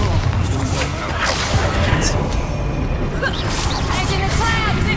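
A Bombarda explosion spell in the video game Hogwarts Legacy, a loud booming blast with whooshing magic effects and crackling debris amid dense game combat sound, with voices talking over it.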